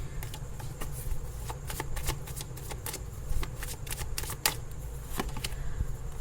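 Tarot cards are shuffled by hand during a reading, a continuous run of soft papery flicks and riffles with sharper snaps scattered through, close and steady with no talk.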